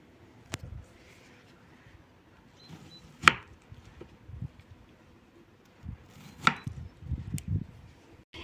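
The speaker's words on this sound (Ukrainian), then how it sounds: "Тепер беремо е, цю скибочку і ріжемо його так, як вам подобається" A knife cuts through a watermelon slice: a handful of quiet, separate chopping knocks spaced irregularly, with soft rustling between them and no talking.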